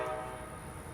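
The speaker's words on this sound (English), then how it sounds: "Amtrak 91 approaches as it begins its unique backup move into Tampa Union Station" An Amtrak 91 Silver Star passenger train approaches near Tampa Union Station, a sustained rumble with a steady high tonal whine, loud and close for the whole second.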